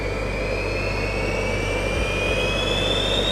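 The engines of a Gravity jet suit spool up, five small turbines winding together into a loud, steady rising whine with a continuous roar underneath, very close.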